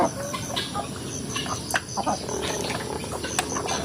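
Penned chickens cluck and squawk in a busy flock just after feeding on rice bran, cracked corn and feed pellets, a steady chorus of calls heard at moderate distance.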